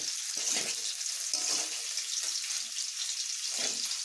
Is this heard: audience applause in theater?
no